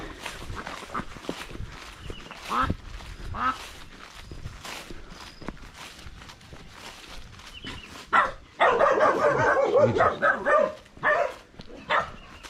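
Village dogs in Vietnam bark at a passing cyclist in several short bursts, growing louder and more clustered toward the end, with outdoor ambience and someone talking.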